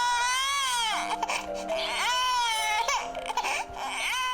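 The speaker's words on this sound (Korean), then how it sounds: "아기들의 울음소리가 똑같은 것 같으면서도 묘하게 다릅니다" An infant, one of quadruplet babies, cries loudly in sustained wailing bursts close by, with short breaks between cries and no talking.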